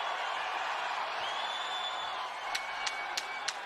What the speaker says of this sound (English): All right, this crowd loves it.